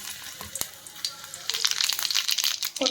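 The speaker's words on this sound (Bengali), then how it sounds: "কড়াইয়ের তেল একদম গরম হয়ে গেছে। প্রথমে দিয়ে দিচ্ছি ফোড়নটা।" Whole spices hit very hot oil in a wok and set off a crackling sizzle. It begins with a few sharp pops, then swells into a dense, bright spitting hiss close to the listener.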